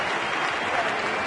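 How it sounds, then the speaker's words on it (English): Baseball crowd at a Kansas City game applauding steadily as a no-hitter ends on the first hit, a dense wash of clapping with no voices on top. "gets a nice hand from the crowd"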